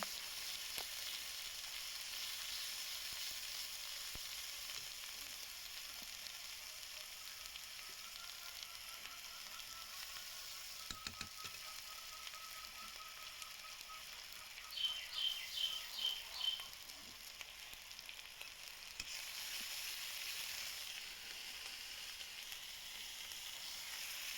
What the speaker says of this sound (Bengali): মশলাগুলোকে একটু জল দিয়ে কষিয়ে নেব